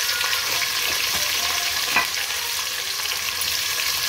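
Cumin and spices sizzle steadily in hot oil in a frying pan, a dense continuous crackling hiss with a brief louder pop near the middle, close and alone with no talk.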